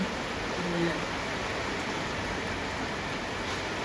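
Steady, dense rain hisses close by during an outdoor Kali puja, with an even, unbroken wash of noise, and no clear talking rises above it.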